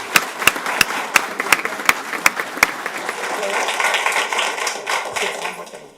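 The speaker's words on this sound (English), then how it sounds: "let's give our fearless leader a round of applause" Applause breaks out for a school principal at a school board meeting, beginning as a run of regular single claps and filling out into steady, moderate clapping from a small audience.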